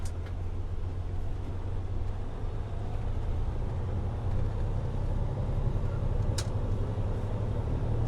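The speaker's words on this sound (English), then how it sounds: "Taking off in 4th gear." A semi truck pulls away from a stop in 4th gear, its diesel engine a deep, steady rumble heard from inside the cab, continuous and loud with one brief click partway through and no voices.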